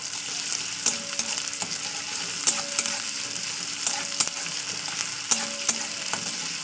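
Ginger garlic paste frying in oil for a Bengali meat and bottle gourd curry: a steady sizzle broken by repeated sharp clicks of a spoon scraping the pan, close and alone.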